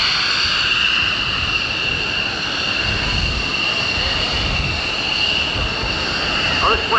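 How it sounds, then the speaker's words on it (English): A jet plane doing a touch and go at a 1992 airshow at Westover, heard as a steady, loud, broad engine roar that holds for several seconds and sounds distant, with no talking over it. "Swing around, put his wheels down again,"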